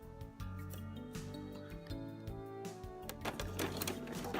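A sewing machine back stitches a seam on a spring coat, its steady mechanical whir running close and continuous with a brief pause near the start, no talk over it.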